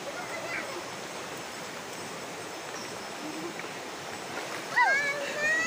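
A river in Pithoragarh, Kumaon, Uttarakhand is crossed on foot, its continuous broadband rush close and steady, with a brief splashy burst near the end.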